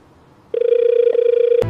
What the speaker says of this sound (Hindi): एसपी साहब का फोन है, उठा लो